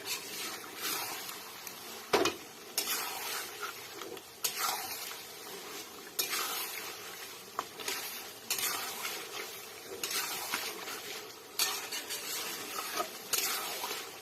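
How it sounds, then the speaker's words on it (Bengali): Mutton curry being stirred and fried in a pan, with repeated scraping strokes and a continuous sizzle running through, fairly quiet and rhythmic. "এবার এটাকে আবার ভালোভাবে মিশিয়ে দেব।"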